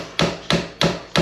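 A cheap swap-meet hammer strikes four times in quick, evenly spaced sharp blows, loud and close, with no talking.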